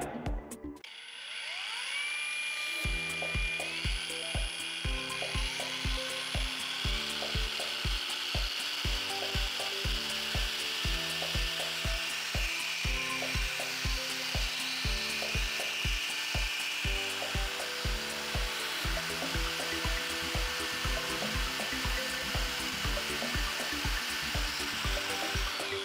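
A Parkside PWSAP 20 cordless angle grinder spins up and runs without load, a loud steady high whine with a pulsing, rattling drone beneath, close and continuous with no talking.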